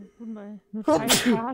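A loud sneeze bursts out once near the end, right after a short stretch of German speech, during a live Terraria gaming session.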